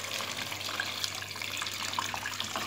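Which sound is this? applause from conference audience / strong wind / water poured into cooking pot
water poured into cooking pot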